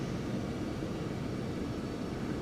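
Phenom 300 business jet in the flight simulator X-Plane 11, a steady broadband engine roar holding constant throughout with no voices.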